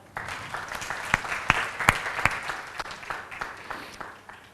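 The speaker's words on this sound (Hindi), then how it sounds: "जोरदार तालियां।" An audience at a seminar session claps, a moderate, fairly distant round of applause with several sharper individual claps standing out, building briefly and then tapering off.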